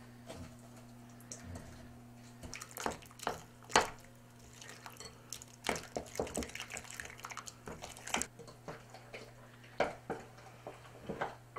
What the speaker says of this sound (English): mix it with the spoon.